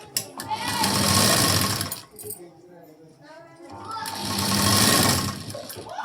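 A sewing machine runs in two long stitching bursts while stitching a puff sleeve, with a short pause between them and someone talking over it.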